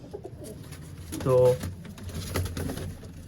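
Pigeons coo close by in a loft, one low throaty burst standing out briefly amid rustling, while someone talks throughout.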